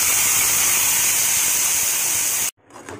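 Spice paste frying in a hot pan gives off a loud, steady hiss of sizzling that cuts off abruptly near the end, followed by a few faint clinks.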